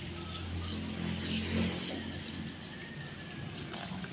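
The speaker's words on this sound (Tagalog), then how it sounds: "Lalagyan na natin siya ng tubig ulit." Water poured into a cooking pot while boiled beef and vegetable soup is being made, a steady close splashing pour that runs for about two seconds and then eases into a softer trickle.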